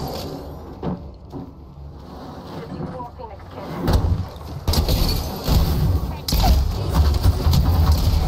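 Video game gunfire crackles in bursts against a busy, loud background, growing denser in the second half, with a player talking over it.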